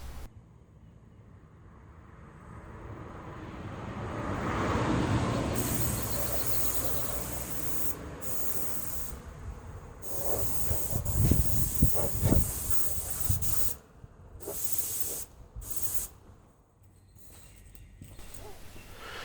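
Paint hisses from a sprayer onto the firewall seam of a Land Rover Series 3 during refurbishment, in long steady bursts broken by short pauses, with some handling clatter in between.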